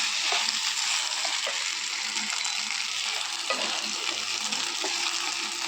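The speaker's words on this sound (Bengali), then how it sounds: "চলো এবার ভালো করে এটা নাড়াচাড়া করে নিতে হবে।" Marinated Gobindobhog rice sizzles steadily in a hot pan as it is stirred, a dense, close frying hiss with faint scraping strokes underneath and no talk.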